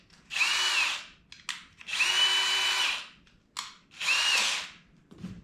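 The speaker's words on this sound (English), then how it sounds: "And with my 3/8 inch drill bit" Power drill with a 3/8 inch bit boring holes in stacked plastic worm-farm bins, three sustained whining bursts separated by short pauses with small handling clatters between them.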